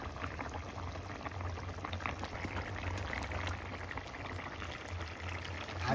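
Fish curry simmering in a pot, a steady bubbling and gentle liquid burble that holds evenly throughout at a moderate, close level, with no voices.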